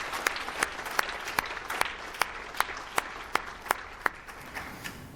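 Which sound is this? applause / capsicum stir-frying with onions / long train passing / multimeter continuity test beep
applause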